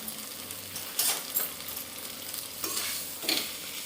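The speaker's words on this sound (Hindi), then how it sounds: "पोंछ के उसके बाद हम इसके अंदर खोया डालेंगे, खोए को भूनेंगे" 200 grams of khoya roasts in a kadhai for gujiya filling, a soft steady sizzle with a few distinct scraping stirs of the spoon against the metal, close and unaccompanied by talk.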